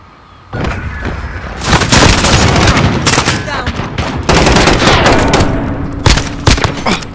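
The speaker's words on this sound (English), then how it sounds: "Taking fire!" Gunfire in the video game Modern Warfare: sustained automatic bursts and heavy shots erupt after a brief quiet start, loud and close, with dense overlapping rattles and a few sharp booms.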